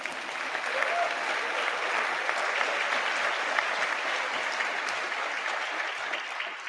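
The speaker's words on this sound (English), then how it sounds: "You can clap again now." A university graduation audience in a hall applauds steadily, a dense, even wash of many hands clapping for several seconds at moderate distance, with no voices standing out.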